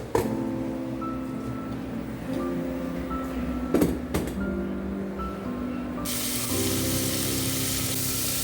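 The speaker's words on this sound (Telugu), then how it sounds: "ఆనియన్స్ అండ్ ఆల్ వెజీస్ని యాడ్ చేసి ఫస్ట్ నేను వెజిటేబుల్స్ని కుక్ చేసి తర్వాత శనగపిండిని యాడ్ చేస్తా" Onions and mixed vegetables fry in a pan with a steady sizzle, broken by a few clattering knocks midway and a louder hiss near the end, with no voices.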